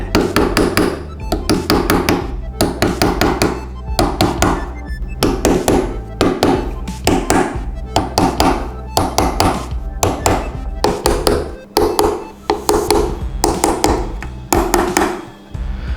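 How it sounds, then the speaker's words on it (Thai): Guitar frets being hammered down into the neck of a Yamaha Dynamic No.15 during a refret, with loud, close, repeated metallic taps in steady clusters and brief pauses, and no talk. "วางทาบเอียงๆอย่างนี้นะครับแล้วก็ใช้ตอก เพื่อให้คอเฟดเนี่ยมันงุ้มลงนะครับ"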